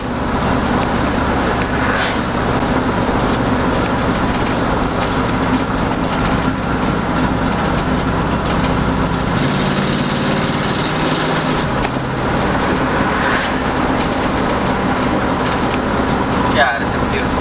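A 1965 Ford Galaxie drives at full throttle after a spark plug change, its engine a loud rumbling roar with a rhythmic rattling drive noise that drops and returns partway through, while a voice talks over it.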